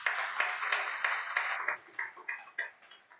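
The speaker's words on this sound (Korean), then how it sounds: "박수 한번 합시다." Scattered clapping from a church congregation at a thanksgiving service, sharp individual claps over a soft wash of voices and room noise, thinning out toward the end.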